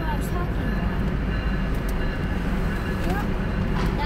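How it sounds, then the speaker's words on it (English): The Empire Builder passenger train bound for Chicago rumbles past as a loud, steady roar of rolling wheels, with people talking over it. "That's the train right there that goes to Chicago."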